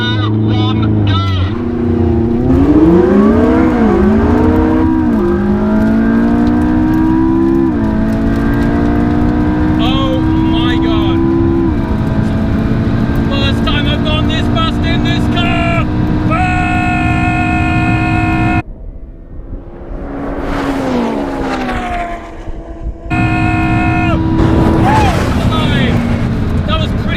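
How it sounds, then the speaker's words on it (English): A McLaren 675LT and a Porsche 918 Spyder launch hard under launch control, their engines loud and close, climbing through rising, whining gear pulls with shifts, then a brief dip before another surge. A voice talks over the roar. "Let's play around with launch control, and hopefully we'll suck it to the F12."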